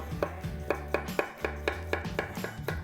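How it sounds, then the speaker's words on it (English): Knife chopping zucchini on a cutting board, about ten crisp, evenly spaced taps over a low background hum, with no talking. "we're just going to take the ends and we're just going to slice these up"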